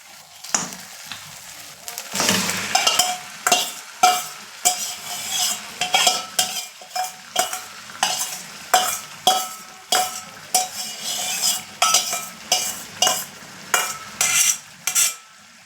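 Mutton in a spice masala that has released its oil fries in a pot, a soft sizzle under regular, rhythmic scraping strokes of a spoon stirring the meat, close and without talk.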